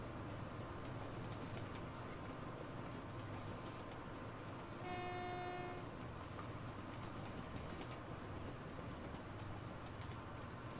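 Train departing in the video game Transport Fever 2: a low continuous rumble of rolling wagons, with a short horn toot about halfway through.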